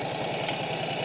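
1948 Indian motorcycle engine idling while warming up, a close, rhythmic loping putter with even pulsing beats throughout a short stretch, no talk.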